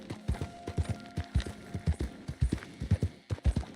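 A horse's hooves clip-clop steadily in Red Dead Redemption 2, a rhythmic stream of close, thudding beats at a brisk gait, fairly loud and continuous with no talking over them.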